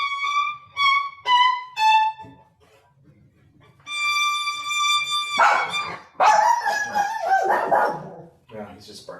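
A dog barks in a burst of four or five sharp yips, close and loud, then pauses. After that a sustained violin-like tone plays and more barking overlaps it near the end.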